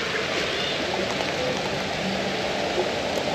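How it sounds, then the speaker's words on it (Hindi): Steady rain pours down during a motorcycle ride in Ladakh, a dense, even hiss of drops that holds constant throughout with no clear voices. "बारिश फिर हो गई, बारिश आ गई।"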